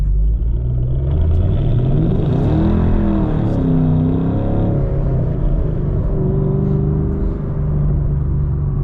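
A 2014 Shelby GT500 engine roars loud and close at full throttle, its deep rumble climbing in pitch through rising RPMs with a brief dip between gear changes, with no voices.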